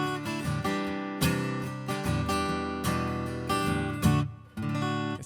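Strummed chords ring from a Martin D-18E acoustic guitar through an Aura pickup blend set at 75%, loud and full, with repeated strums, sharp attacks and sustained decays, no talking.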